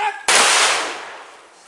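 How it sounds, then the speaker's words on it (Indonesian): A rifle salute volley fired at a police funeral: one sharp, loud crack after a brief moment of other sound, then a long echoing boom that slowly fades over more than a second. "Tembakan salvo mengiringi pemakaman."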